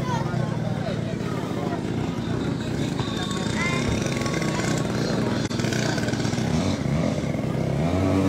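A 5 cc two-stroke glow engine on a model aircraft at a model flying club meeting, with a steady, high, buzzing whine running throughout under loud background noise and voices.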